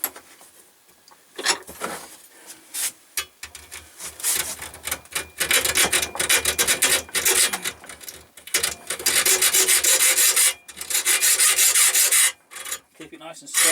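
A hacksaw cuts into a stainless steel squeegee channel, giving loud, close rasping strokes in bursts with short pauses between runs.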